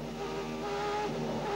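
Onboard engine note of a 1990 Formula 1 car driven by Patrese at Paul Ricard, a steady loud high-revving drone held through a double right-hand corner in fifth gear, with no talk.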